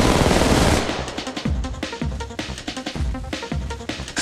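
Rapid automatic gunfire from the mobile battle royale game Apex Legends Mobile, a dense burst at first and then a steady stream of sharp repeated shots, loud and close with no talking.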